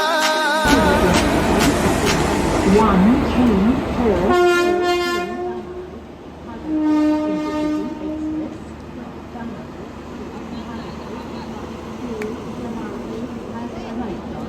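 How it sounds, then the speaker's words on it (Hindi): A busy railway station: a loud, blaring train horn opens, then further horn blasts sound as trains rumble past, with voices and crowd noise throughout. "सो मैं इस वक्त रेलवे स्टेशन पहुंच चुका हूं भाई"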